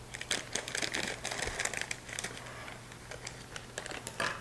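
Scissors snip and rustle at a bag of semi-sweet chocolate chips in a home kitchen, a run of quick crisp cuts and plastic crinkles close to the microphone, with a low steady hum underneath.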